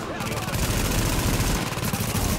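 Sustained rapid automatic gunfire from a deployed turret in The Division co-op play, loud and dense throughout with continuous low booming bursts and some voices mixed in.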